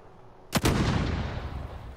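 A single loud gunshot blast in Call of Duty: Modern Warfare, fired at a helicopter, rings out, followed by a long rumbling echo that slowly fades, with no talking.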